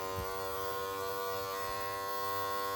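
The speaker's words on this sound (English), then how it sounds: "You'll have to prime the pump a little bit." A small electric water pump with a hose attached runs while being primed, giving a steady, close buzzing whine with a strong tonal hum that holds constant throughout.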